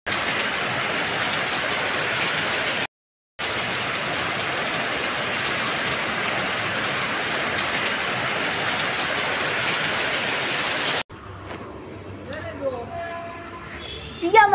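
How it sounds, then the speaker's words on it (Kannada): Steady, dense rain pours down continuously for about eleven seconds with a brief break, loud and close, then fades into quieter background sounds with faint voices. "ಮಳೆ"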